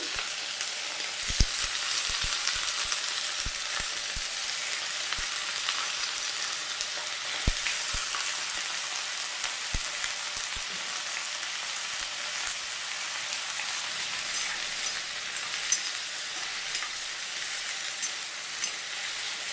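Potato and ash gourd curry is stirred in a pan over a steady, bright sizzle, with occasional soft clicks of the spoon against the pan.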